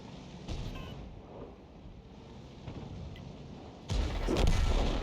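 Artillery shells fire in the World of Tanks video game, sounding as a few distant, muffled booms over a low rumble. A louder, heavier blast rolls in near the end.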